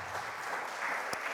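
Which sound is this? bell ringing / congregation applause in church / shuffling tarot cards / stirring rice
congregation applause in church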